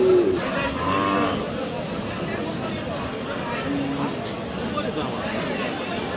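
Cattle moo at Aftabganj livestock market in Dinajpur, where Sahiwal cows are for sale, a couple of low moos rising early over a steady crowd murmur and chatter.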